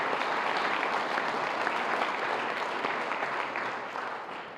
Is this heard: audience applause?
yes